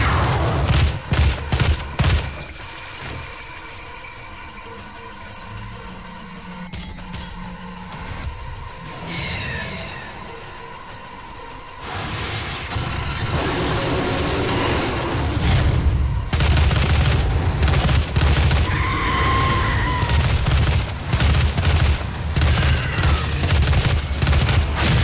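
Rapid bursts from a heavy assault rifle in the video game DOOM, loud and close, rattle in dense volleys with short gaps, thickening into continuous fire over a low rumble in the second half.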